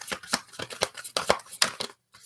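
A deck of tarot cards is shuffled up close, giving quick uneven bursts of papery slaps and riffles, followed by a brief pause.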